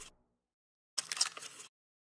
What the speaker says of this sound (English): a Foley sound of a lighter or a match or something like that